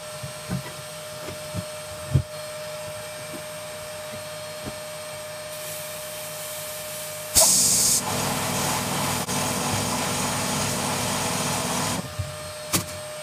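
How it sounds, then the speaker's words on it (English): A compressor and vacuum cleaner run during media blasting inside a blasting cabinet, with a sharp burst of hissing air, then a loud steady roar for several seconds. Scattered clicks and knocks come before it, and no one talks. "Be a bit noisy because the vacuum cleaner will be going as well and the compressor"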